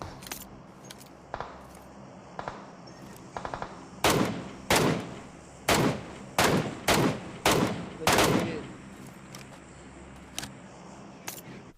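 Rifle fire from an MK marksman rifle in the mobile battle-royale game PUBG Mobile: a few faint early shots, then a run of about eight loud, sharp single reports in an uneven rhythm, followed by a couple of distant quieter shots.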